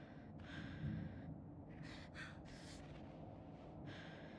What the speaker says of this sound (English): we're panting and puffing